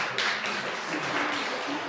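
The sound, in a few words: audience applause after a conference talk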